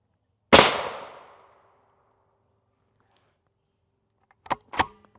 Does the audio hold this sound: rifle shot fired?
yes